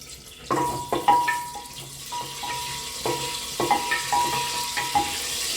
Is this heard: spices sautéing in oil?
yes